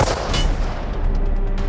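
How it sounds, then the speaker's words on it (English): Rifle gunfire in a thriller film scene, a dense continuous burst of shots with a strong opening crack followed by sustained loud rattling fire, steady throughout without voices. "Hey, is that rifle work over there?"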